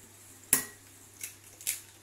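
An egg being mixed into cake batter in a pot: a sharp clink of utensil against the pot followed by two lighter scraping taps, close and alone.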